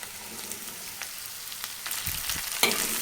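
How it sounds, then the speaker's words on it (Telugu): Chopped ridge gourd pieces go into a pan of onions already fried golden, with a continuous close oil sizzle and hiss that swells into a louder burst near the end. "ఉల్లిపాయలు దోరగా వేగిన తర్వాత బీరకాయల పొట్టు తీసుకొని తరిగి ఉంచుకున్న బీరకాయ ముక్కలు వేసుకోవాలి."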